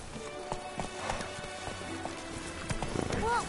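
Roach, a horse in The Witcher 3 video game, clip-clops along at a quick gait with hooves thudding in rhythm over a game soundscape, with a short voice near the end.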